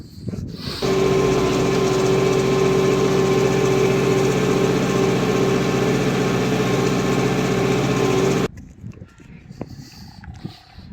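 A Fendt 105 hp tractor pulls a Kuhn four-furrow plough through dry ground at about 8.5 km/h, its engine a loud, steady drone for roughly seven seconds before dropping away to faint background noise.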